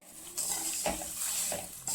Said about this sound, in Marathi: आता याला हलवून घेऊया.